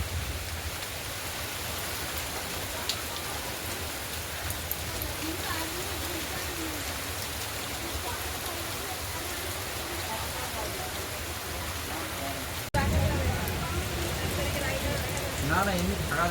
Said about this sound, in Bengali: এখন বৃষ্টি হচ্ছে।